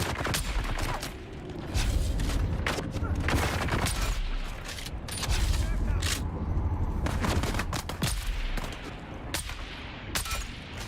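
Rapid gunfire from a weapon in a Dune-themed video game, dense bursts of automatic shots packed almost continuously with loud sharp reports, a voice talking faintly underneath.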